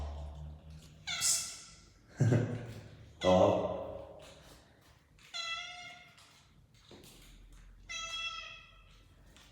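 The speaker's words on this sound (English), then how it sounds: "There's a cat hanging up in the staircase." A cat in a staircase lets out a series of about five plaintive meows, drawn-out and fairly close, spaced a second or two apart, with a person's brief spoken greeting mixed in.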